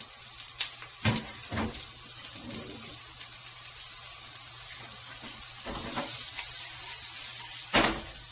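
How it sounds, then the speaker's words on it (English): Diced yellow onion sizzling in a couple tablespoons of oil in a pan, a steady soft hiss with a few louder crackles and clatters, close and alone without talk. "I've got a couple tablespoons of oil, and I'm just going to add my half an onion"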